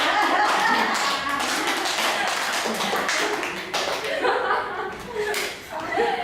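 A group claps together in a room for a student who studies three times a week, a dense run of hand claps with a little laughter over it.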